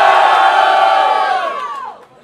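A rap battle crowd in Rio de Janeiro roars and shouts in a loud, close wall of voices to vote for a rapper, sustained before fading away at the end.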